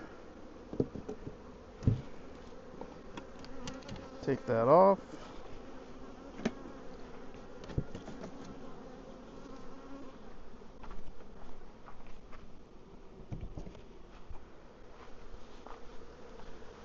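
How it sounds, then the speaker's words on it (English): Bees swarm around a hive feeder, a steady low buzz under a brief spoken remark, with a louder burst as the lid comes off. "There's lots of bees on the feeder."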